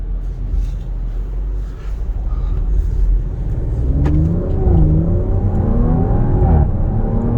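A 2021 Audi RS5 Sportback Ascari Edition engine rising and falling through loud revs, its deep exhaust note booming from large tailpipes, steady and close throughout.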